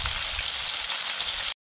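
Shrimp fry in a pan on a riverbank, giving a dense, steady sizzle that stays loud and close for about a second and a half, then cuts off abruptly.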